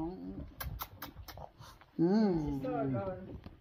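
Pet dogs at a home in Christchurch, New Zealand, give short whimpering greeting sounds amid patter and movement, with a voice speaking over them in the second half.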